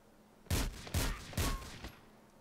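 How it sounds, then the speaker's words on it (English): Three loud pistol shots fired in GTA IV: The Ballad of Gay Tony, evenly spaced about half a second apart, each a sharp blast with a short decay, alone without talk. "Pull your pistol out and put one in him."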